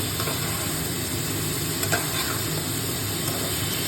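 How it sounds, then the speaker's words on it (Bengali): Fish pieces fry in a pan of hot oil and gravy, a steady close sizzle with occasional soft stirring scrapes, continuous and fairly loud with no talking. "এর মধ্যে এবার দিয়ে দেবো হচ্ছে মাছগুলো। এই যে দিয়ে দিলাম, একটু নাড়াচাড়া করবো।"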